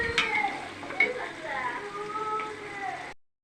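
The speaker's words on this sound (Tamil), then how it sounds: "நல்ல பிரியாணி வதங்கி வெங்காயம் போட்டு வதங்கிக்கிட்டு இருக்குது." Large onions sautéing in oil for a chicken biryani give a soft, steady sizzle with a few stirring scrapes, heard under continuous talk.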